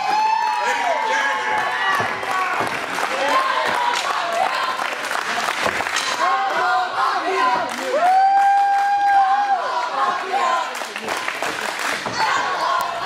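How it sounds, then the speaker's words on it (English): An independent pro wrestling crowd at an EGCW show cheers wildly and applauds loudly and continuously, a dense near roar of claps and shouts with voices calling out above it. "this crowd is going crazy"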